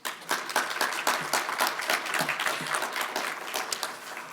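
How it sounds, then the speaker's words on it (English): Moderately loud applause from a business forum audience, a dense burst of clapping that continues evenly throughout. "I think that deserves a round of applause."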